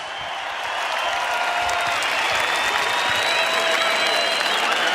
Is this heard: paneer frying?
no